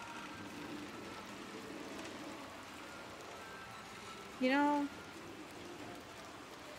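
Rain pours down steadily in Little Nightmares 2, a continuous wash of falling water on surfaces, with a short tonal whistle partway through and someone speaking briefly over it.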